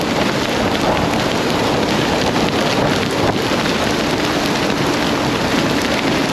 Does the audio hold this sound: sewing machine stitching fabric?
no